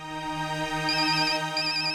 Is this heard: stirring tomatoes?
no